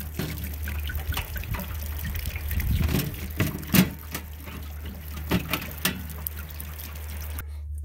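Water trickles and drains on its own from RV plumbing in bitter cold, a soft continuous flow with a few louder gurgles partway through before cutting off.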